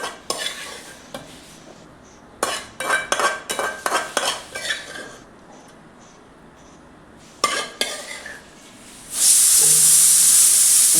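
A pan is stirred with a metal spoon, rhythmic scraping taps in two bursts. Then a tempering for dal drops into hot oil and a loud, sharp sizzle erupts and holds to the end.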